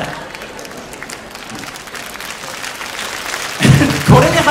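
Concert audience at a Fire Emblem event bursting into applause and cheering near the end, with voices in the crowd and a steady crowd murmur beforehand.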